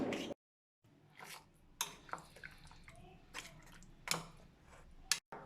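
Chicken biryani ingredients being mixed with curd in a pot, with intermittent scraping and clinking of a utensil against metal, short knocks spaced irregularly over a quiet background, no talking.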